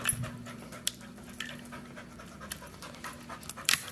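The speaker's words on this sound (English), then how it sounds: "You see the panting has picked up again." A nervous dog pants rapidly and close by while being coaxed across unfamiliar flooring, a quick rhythmic breathing with a few sharp clicks and rustles mixed in.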